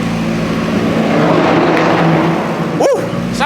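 A Seat Ibiza engine revs hard and loud up close, holding a strained high-rpm roar for a few seconds before a quick rising blip near the end.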